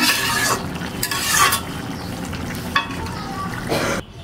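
Curry with fried egg being stirred and mixed in a pan, a soft sizzling fry under repeated scraping strokes of a spoon against the metal, fairly close and continuous.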